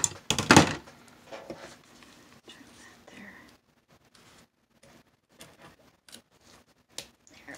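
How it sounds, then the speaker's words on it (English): After a loud rustle, a few soft, crisp snips and clicks of small sharp scissors cutting paper sound sporadically in a quiet room. "I gotta get my little scissors out."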